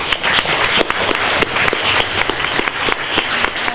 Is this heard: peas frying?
no